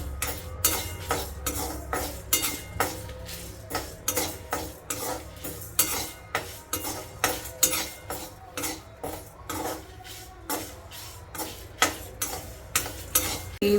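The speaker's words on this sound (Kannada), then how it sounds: "ಇದನ್ನು ಕೆಂಪಿಗೆ ಹುರ್ಕೋತಾ ಇದ್ದೀನಿ ನಾನು ಇವಾಗ" Urad dal, dried chillies and pepper roasting in a pan for Iyengar ulandogare, stirred steadily so a rhythmic scraping and rattling repeats every half second or so, close and fairly loud, with a faint sizzle underneath and no voices.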